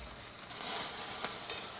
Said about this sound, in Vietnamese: Đúng là bánh xèo đổ là làm xèo xèo rồi bánh xèo nha anh em.